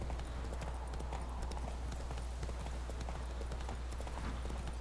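Roach, the horse in The Witcher 3, trots with a quick, steady clip-clop of hooves heard close and clear the whole time, over a low ambient hum.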